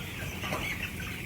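A dense, steady chorus of fourteen-day-old chicks cheeping softly and continuously, fairly faint and without gaps.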